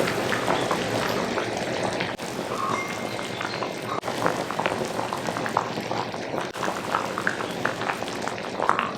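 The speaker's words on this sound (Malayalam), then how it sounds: "ഭയങ്കര മഴ എന്ന് പറഞ്ഞാൽ നല്ല മഴയാണ്." Heavy rain pours steadily during a lunch of fried fish and boiled tapioca being cooked in rural Kerala, a dense, continuous hiss of countless droplets that stays loud and even throughout, with no voices over it.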